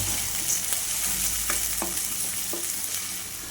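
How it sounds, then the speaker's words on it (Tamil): Onions and garlic frying in a pan while being stirred, a steady close sizzle broken by a few soft utensil scrapes, with no voices. "நல்லா கிளறி விடுங்க."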